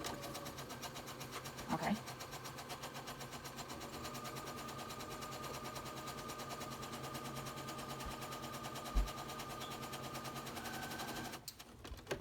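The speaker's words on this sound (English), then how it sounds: "so now I'll begin my stitching" A sewing machine stitches the hem of a homemade fabric face mask at a slow, steady pace, its fast mechanical rattle running continuously for most of the span, with a brief spoken word and a few small clunks.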